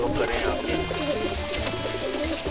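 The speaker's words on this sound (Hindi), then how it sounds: "ये जिलदार कबूतर है।" A Jildar pigeon coos softly in short repeated calls, close and fairly faint, as someone speaks over it.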